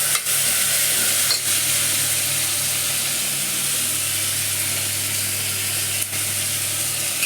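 Chopped onions and tomatoes sauté in oil in a pan for a Tamil-style mutton dish, giving a loud, continuous sizzle with a few brief stirring scrapes and no talk.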